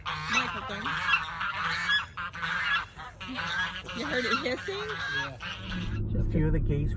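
Several geese honk loudly and repeatedly at close range in overlapping calls at Paul B. Johnson State Park, Mississippi, with some voices faintly mixed in and a low rumble near the end.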